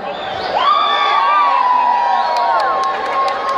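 A crowd at a Michael Jackson tribute show cheers loudly, with whoops, high shouts and whistles rising over a steady roar, and light clapping near the end.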